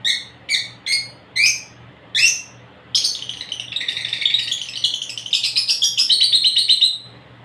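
A pet parrot calls close and loud, first five sharp separate chirps in a steady rhythm, then a dense run of rapid chattering tweets and whistles, with no talking over it.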